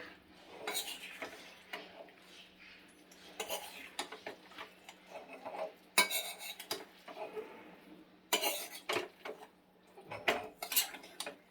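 Kachki fish in oil in a pan being stirred once, with clinks and scrapes of a utensil against the pan coming in irregular bursts over a low, quiet background.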